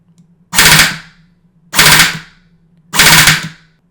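Homemade airsoft gun modeled on the Rat King from Destiny 2, firing three sharp, loud three-round bursts about a second apart, with near silence between them.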